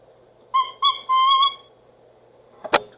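Oboe reed crowing while vibrating only at a well-scraped tip, giving three short, bright, thin reedy squawks in a quick row, the last one held a little longer, then a brief soft click near the end.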